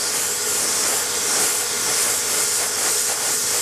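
Aerosol can spraying a gloss black coat, a continuous close, bright hiss holding steady at full strength for several seconds without pauses, with no talking.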